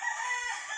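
A rooster crows on a farm, one long sustained cock-a-doodle-doo call, loud and close, with no talk over it.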